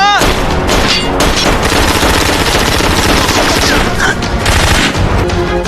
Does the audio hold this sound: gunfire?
yes